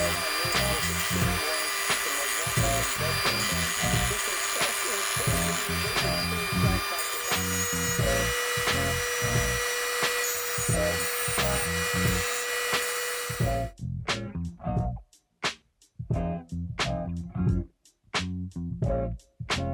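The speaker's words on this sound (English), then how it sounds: "we're going to sand it down to remove these lights and make this a little flatter" Hand-sanding a Hot Wheels Dodge Monaco die-cast toy car body: a continuous close rasping scrape that breaks near the end into short separate rubbing strokes with brief pauses.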